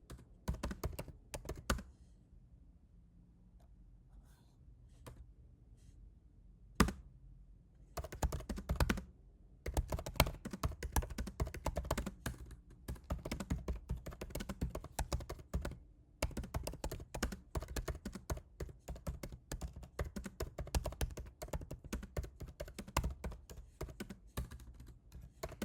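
Typing on a computer keyboard, close up: rapid runs of crisp keystrokes broken by short pauses, with a heavier key thunk now and then, steady for the whole stretch.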